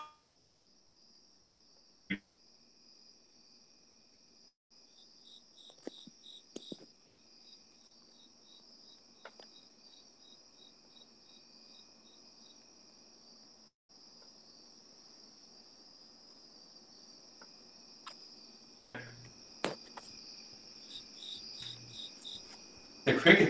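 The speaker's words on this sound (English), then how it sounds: "The crickets are there." Crickets chirp steadily in a high, continuous trill that runs through the whole stretch, faint to moderate, with a few scattered clicks and background noises and no clear speech.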